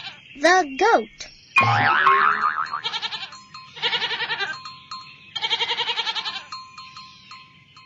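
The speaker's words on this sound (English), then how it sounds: "The goat." A goat bleats several times, long quavering calls with a pulsing vibrato and short pauses between them, over a faint background hum.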